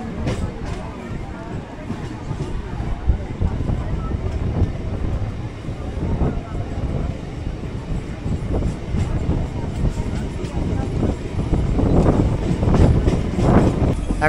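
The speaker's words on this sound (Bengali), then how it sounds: "নরেন্দ্রপুর থেকে ট্রেন ছেড়ে দিল" A Sealdah–Canning local train pulls out of Narendrapur station and rumbles along, wheel noise and wind buffeting steady and close, swelling louder near the end, with someone talking over the ride.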